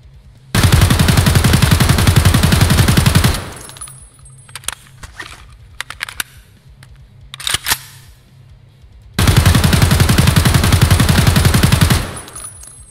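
Two long sustained bursts of full-auto AK-74M fire in the shooter game Escape From Tarkov, each a dense rapid rattle lasting about three seconds, separated by quiet clicks and handling noises.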